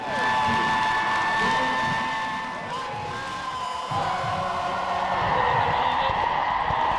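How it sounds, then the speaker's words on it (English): A stadium crowd gives a standing ovation after a Kansas City Current women's soccer win, sustained applause and cheering rolling on as a broad, distant-sounding roar for several seconds. "It's a standing ovation from the crowd"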